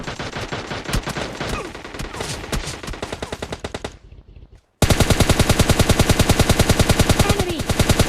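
Rapid gunfire from an Uzi in a mobile battle royale video game: dense automatic bursts, loud and close, a brief drop to silence, then a steady relentless stream of rapid shots.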